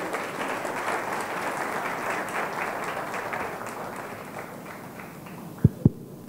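Warm applause from a crowd for contestants at a Marathi stage show, a steady sustained clapping that gradually fades, followed by a couple of sharp knocks near the end.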